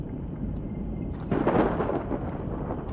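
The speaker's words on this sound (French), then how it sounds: "la tempête de l'éclipse" Thunder rumbles and rain pours during the eclipse storm in the survival video game The Tribe Must Survive, a steady wash of rain swelling into a loud, deep roll of thunder midway.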